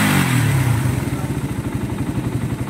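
Motorcycle engine after carburetor work, revving hard at first and then settling into a steady, pulsing mid-pitched run close by, with no talk over it.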